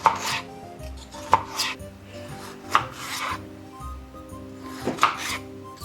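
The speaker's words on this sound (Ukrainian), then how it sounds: "Нарізаємо полуницю пластинками." A knife slices strawberries into thin pieces for a strawberry tiramisu, each cut landing as a sharp tap on the board at a steady, unhurried pace, close and alone.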